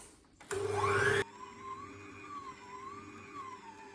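A kitchen mixer whirs loudly through plain Italian shortcrust pastry dough (pasta frolla) for a short burst of under a second, then drops to a quieter steady hum.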